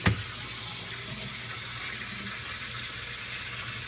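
Tap water runs steadily from a faucet to soak the cooling pads of a portable air conditioner, a constant close hiss and splash after a brief opening clunk, with no talking.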